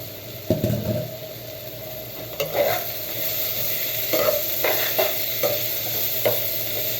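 Egg and potatoes stirred and fried in a pan, a steady close sizzle with irregular scraping stir strokes of a utensil against the pan, no talking.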